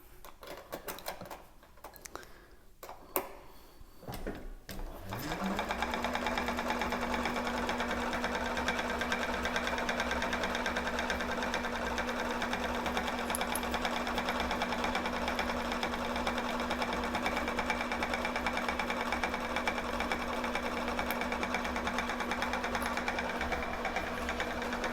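A Thor GE 0617C sewing machine starts up after a few seconds of handling clicks, then stitches in a steady, fast, even whir with a constant motor tone, close and alone.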